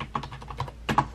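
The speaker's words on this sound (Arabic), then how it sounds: "الكيبورد يكتب مثل ما تشوفون" A third-party keyboard connected to an iPad Pro, with input set to Arabic, clacks through a quick burst of close, crisp keystrokes in uneven rhythm, with no voice over it.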